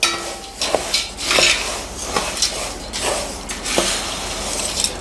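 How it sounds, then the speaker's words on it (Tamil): A homemade savory snack mixture being stirred and tossed in a metal vessel, producing repeated clinks and scrapes of utensil on metal in an uneven rhythm over a light rustle, with no speech. "இப்போது நல்லா கலந்து விட்டுக்கோங்க."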